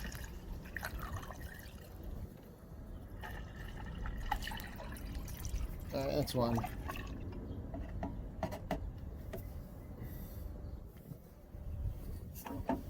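Coolant pours and trickles into the radiator of a 35 kW Briggs & Stratton generator, a continuous liquid gurgle with scattered drips, close by, and someone says a few brief words partway through.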